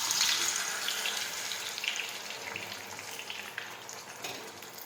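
Potato chips frying in hot oil, a steady broadband hiss and crackle of bubbling fat that stays loud throughout and eases slightly toward the end, with no voices.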